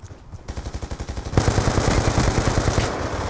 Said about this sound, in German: Ich habe eine komische Waffe, die in einer halben Sekunde das Magazin leer schießt.